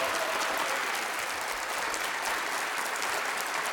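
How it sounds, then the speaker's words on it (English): Dense, steady applause from a sizable audience, continuous clapping throughout at an even, fairly loud level. "So round of applause for them."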